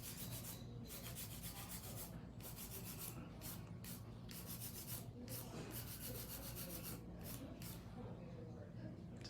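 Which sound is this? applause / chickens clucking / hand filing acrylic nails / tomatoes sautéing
hand filing acrylic nails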